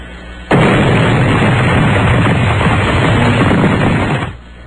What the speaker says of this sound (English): That's a good explosion.